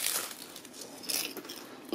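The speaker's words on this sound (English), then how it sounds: "Look, I'm going to give it a crunch." Air-fried food in a crunch test, reviewing the Tower T17021 air fryer: a few faint, crisp crunches from bites or pressing, with quiet crackling between them and no talk.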